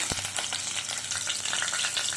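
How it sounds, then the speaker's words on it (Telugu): Tempering spices for a tomato and coriander pachadi sizzle and crackle in hot oil: mustard seeds, chana dal, urad dal, cumin, dried red chillies, curry leaves, garlic and green chillies. A steady, close frying hiss with scattered pops runs throughout, with no talking. "ఇప్పుడు పోపు పెట్టుకుందాం"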